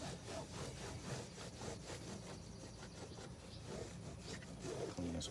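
A buffing wheel spins against aluminum diamond plate, producing a steady, rough, whirring grind that holds throughout at a moderate level.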